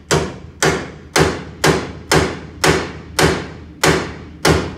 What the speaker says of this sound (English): Sometimes you can just take a little fiber hammer.